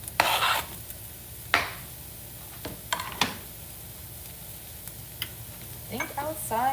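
A spatula scrapes and stirs stir fry in a pan, with several sharp scraping strokes and clinks at irregular intervals over a faint sizzle, close up, with no talk.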